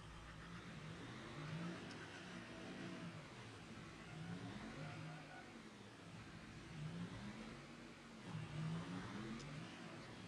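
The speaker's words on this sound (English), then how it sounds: "We're going to hop in our pickup truck here." Pickup truck engine in Farming Simulator 25 driving along, a continuous mid-pitched hum that rises and falls with throttle, steady and fairly quiet throughout.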